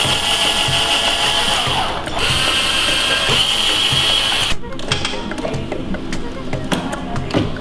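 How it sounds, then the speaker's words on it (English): A drill bores a pilot hole into wood during an antenna-building class, whirring steadily and loudly for about four and a half seconds before stopping, leaving lighter mechanical clicks and background room noise. "To drill the hole to kind of guide the screw and keep the wood from splitting."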